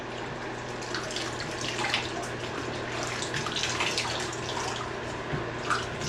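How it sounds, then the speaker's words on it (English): Warm running water rushing steadily from a tap while an animal is washed, a constant close splashing flow with small irregular splatters throughout. "So we're going to give her a nice warm wash."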